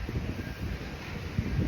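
A cold wind blows hard across the microphone outdoors, making a continuous low, buffeting rumble with gusty swells and no voices.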